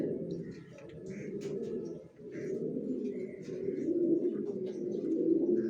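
Tiger grizzle racing pigeons, a master breeding pair sitting on eggs, coo in a low continuous murmur, with a few faint chirps above it. Someone talks over the birds throughout.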